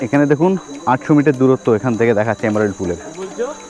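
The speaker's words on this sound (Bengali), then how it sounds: "কি সুন্দর ঝিঝি পোকার ডাক শুনতে পাচ্ছেন সবাই।" Crickets along a forest path leading to Emerald Pool keep up a steady, high, continuous chirring in the background while someone talks over them throughout.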